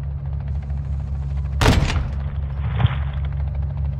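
Gunfire in Call of Duty Modern Warfare 2, a sharp close burst of shots followed by a lighter second report, over a constant low droning hum like helicopter rotors, with no talk.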